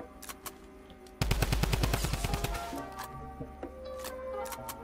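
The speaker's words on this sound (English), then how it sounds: "This Tommy gun's insane" A Tommy gun in Fortnite fires a loud, rapid sustained burst of about a dozen evenly spaced shots, preceded and followed by scattered distant gunfire.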